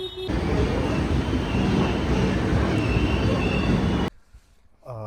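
A train rumbles past at a railway station, a loud, continuous low roar with rattling that runs unbroken for about four seconds before cutting to a quieter background.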